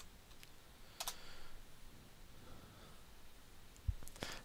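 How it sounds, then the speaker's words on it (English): A computer keyboard is tapped to enter a password: sparse, faint key clicks in small clusters over a quiet room hiss. "type in your password"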